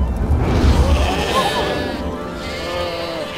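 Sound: sheep bleating

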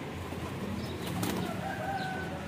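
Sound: pigeons flapping and cooing

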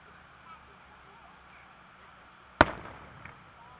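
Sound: firework sparkler

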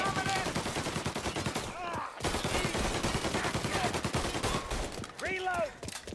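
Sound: gunshots in the video game Mafia Definitive Edition

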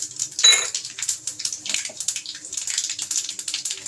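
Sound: mustard seeds and lentils sizzling in hot oil

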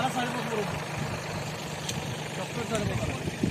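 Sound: tractor engine while turning in field

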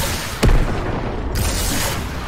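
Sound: four-shot rocket launcher firing in Fortnite video game

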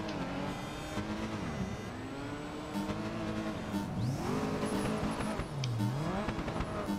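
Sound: race car driving in video game Project Gotham Racing 4

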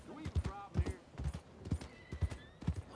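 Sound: horse hooves and whinny while riding, video game Red Dead Redemption 2

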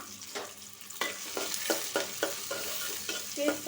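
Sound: onions frying and being stirred in a pan

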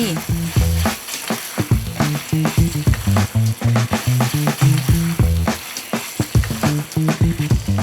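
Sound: stir-frying bologna panang curry in a pan

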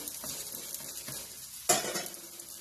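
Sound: moong dal bun dosa roasting in a pan

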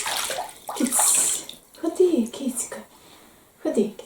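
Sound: water running in a bath

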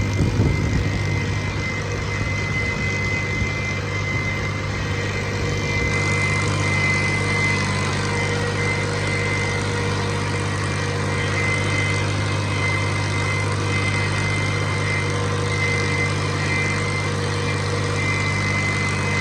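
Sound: tractor engine idling

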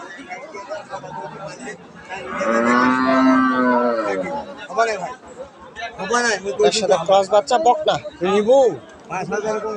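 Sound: cow mooing at a cattle market

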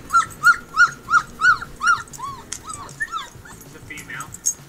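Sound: husky puppies crying

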